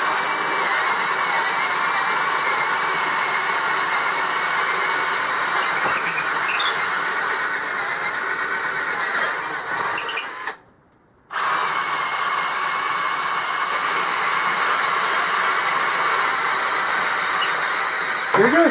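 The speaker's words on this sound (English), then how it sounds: "2 holes from each drill into this pressure treated wood at a 1/2 inch" Hart and Hyper Tough cordless drills bore half-inch holes into pressure treated wood, a loud continuous high motor whine with grinding bit noise, briefly stopping for a second before starting again at full strength.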